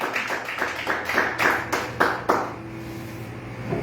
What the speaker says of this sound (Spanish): aplaude la gloria de Dios